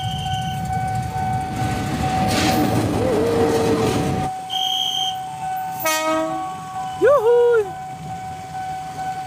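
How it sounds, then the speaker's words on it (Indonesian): A train passes a busy level crossing with traffic and motorbikes waiting, a rumbling rail passage followed by loud horn blasts near the end while people talk over it. "Masuk kereta kedua, awas kereta kedua masuk."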